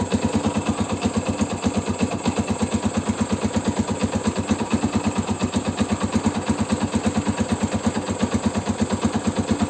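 A Yamaha Scorpio Z 225 motorcycle engine running close by, a loud, steady rapid thumping pulse throughout with no talk.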